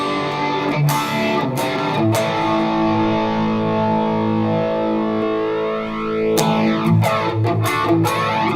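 Electric guitar chords with a thick, swirling chorus and a gritty distorted edge, strummed in a few sharp attacks and left to ring out between them.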